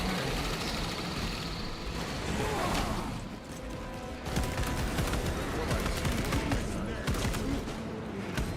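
Orbital guns fire in a video game: dense, rapid bursts of heavy gunfire and clanking machinery roll on continuously and loudly, with a voice speaking underneath.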